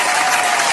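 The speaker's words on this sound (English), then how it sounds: "round of applause again." A crowd breaks into a loud, dense round of applause, close and continuous with no pauses, filling the whole short burst.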